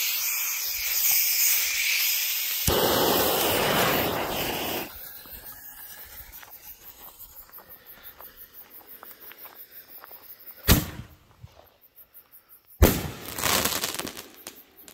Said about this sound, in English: shells hit hard, and when you're that close to the rack, is really popping